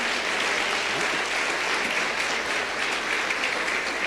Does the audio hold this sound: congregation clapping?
yes